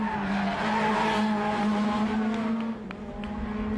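A Skoda rally car on a Madeira Wine Rally special stage in 2011 skids past. A loud engine drone comes with tyre squeal and a rising, falling pitch as it goes by, and no one speaks.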